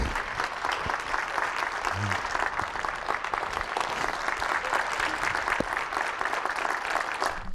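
Sustained, dense applause fills a panel discussion on community safety and liberation, as a crowd claps steadily and loudly without a break.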